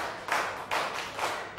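Students in a classroom clapping hands in unison, three distinct claps spaced evenly and fairly loud, with no talk.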